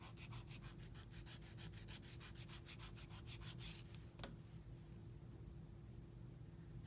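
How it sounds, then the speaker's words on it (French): A nail file rubs back and forth across a fingernail being repaired with tea-bag fabric and gel, a quiet rhythmic scraping of many quick strokes that fades into faint, softer rubbing. "J'étais un petit peu plus basse, donc je continue à limer."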